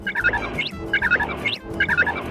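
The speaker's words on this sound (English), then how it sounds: "They say that African gray parrots have the mental capacity of a 6-year-old child." An African grey parrot at a Hawaii resort, the Hyatt Regency Maui, gives loud, close, repeated squawking and chattering calls in quick bursts, with no talking.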